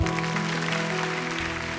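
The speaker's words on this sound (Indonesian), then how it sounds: "Kasih tepuk tangan untuk Tuhan." A church congregation claps steadily in dense, sustained applause, lasting throughout over a held, sustained musical tone from worship accompaniment.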